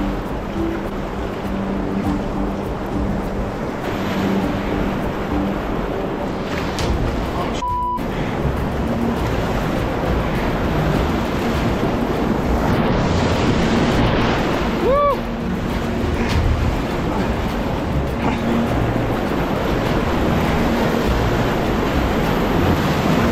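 A class 2 whitewater rapid on a river in spring flood roars steadily at close range, a continuous loud rushing of water with wind noise and a few faint tones over it.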